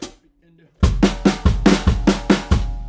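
Acoustic drum kit playing a longer fill of flammed hits and kick drum, a steady run of about nine close, punchy strikes after a brief quiet lead-in.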